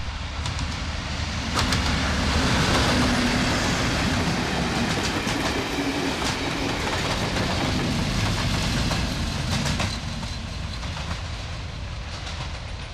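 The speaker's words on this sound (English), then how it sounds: "two of our photographic featured locomotives, the Class 37 and the Class 50, head southwards from Rawtenstall." A Class 37 and a Class 50 diesel locomotive head south from Rawtenstall, a loud, continuous rumble of engines and train wagons with rhythmic wheel clatter, swelling as they pass and then easing off slightly.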